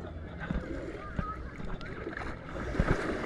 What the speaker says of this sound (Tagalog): Masyadong mahina ang alon.